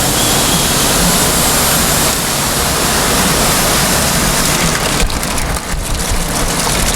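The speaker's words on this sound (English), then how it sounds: "And all the water just rushing out through the screen." Water pours loudly and steadily through the screen of a cheese waste press running at 20 RPM, a continuous close rushing wash with no pauses.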